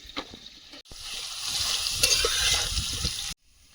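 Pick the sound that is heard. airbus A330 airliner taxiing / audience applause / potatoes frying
potatoes frying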